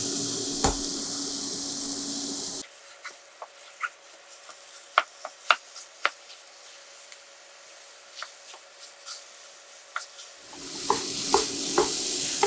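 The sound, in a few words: breakfast sausage sizzling in a pan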